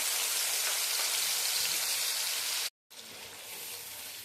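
Mustard paste with green chili, salt and turmeric frying in hot oil while making a chapila fish curry, a dense close sizzle with one abrupt brief dropout.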